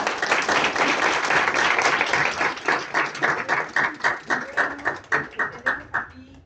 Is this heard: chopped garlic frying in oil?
no